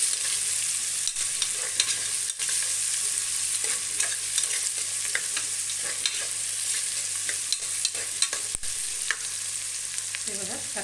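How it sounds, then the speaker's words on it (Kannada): Peas and chopped vegetables for a vegetable pulao frying in a pan, a steady close sizzle punctuated by repeated scraping and clicking stirs of a spoon against the pan, with no voices. "ಸ್ವಲ್ಪ ಫ್ರೈ ಆಗಲಿ."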